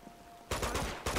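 Gunfire blasts in Uncharted 2 gameplay, with a sudden loud burst of shots cutting in partway through and a second burst near the end, loud and close.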